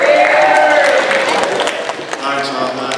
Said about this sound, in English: Give a huge round of applause and thank you to our guests.